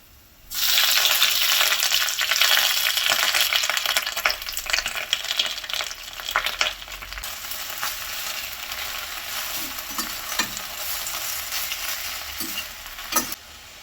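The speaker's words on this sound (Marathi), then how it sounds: "आता याच्यानंतर भाजीचा हिरवा रंग हा जास्त काळ टिकवण्यासाठी आपल्याला ह्या भाज्या या ऑइलवरती फ्राय करून घ्यायच्या आहेत" Vegetables frying in oil in a pan, being stirred, with a steady loud sizzle starting after a brief quiet opening, broken by occasional scraping clicks from the utensil.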